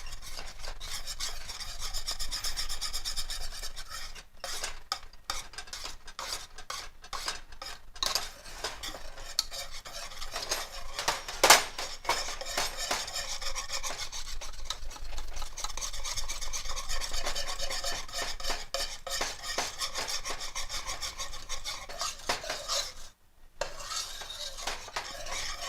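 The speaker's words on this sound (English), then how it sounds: "I'm going to try to whisk it in and see if that, yeah, whisk works better when you're trying to mix it up on this." A creamy peanut butter layer being whisked for brownie snicker bars, a close, continuous scraping and rasping of the whisk against the bowl with rhythmic strokes and a brief pause near the end.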